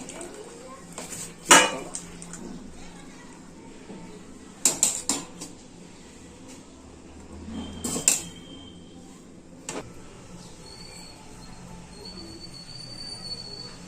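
Boiled egg noodles are lifted from the pot onto a plate, with a few sharp metallic clinks and scrapes of utensils against cookware spaced out over a quiet kitchen background.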